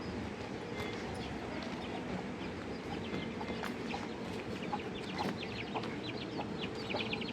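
Chickens clucking inside a farm chicken shed, many soft overlapping calls over a dense, steady background hum, moderately faint and without talk.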